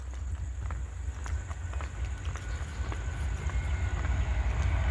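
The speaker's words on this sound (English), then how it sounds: "I hear a train coming through." The Abbeville switcher train passes through near the depot on a weekday morning, a low rumbling roll with scattered clanks and rail clicks that grows louder toward the end, heard without talk.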